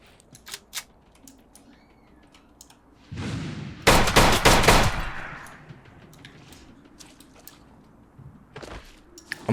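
Gunfire from a 30-round magazine in the video game MISERY: a short burst of rapid shots, loud and close, preceded by some clicks and handling noises against a quiet ambient background.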